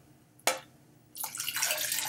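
Cold water poured into a cup for a master cleanse drink, starting with a sharp splash, then a steady, close rushing pour that keeps going.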